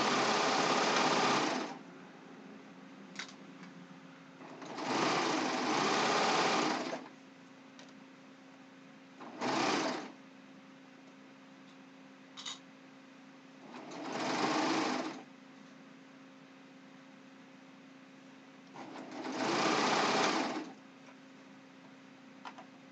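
Serger sewing machine stitching a ruffled pillowcase, running in five separate bursts of rapid whirring stitching, two longer and three short, with quiet pauses between.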